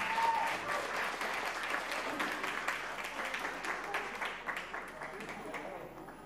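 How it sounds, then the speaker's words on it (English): Audience applause after a stage act at a charity carnival, a dense wash of many hands clapping steadily throughout, fairly loud and slowly thinning toward the end. "Another round of applause."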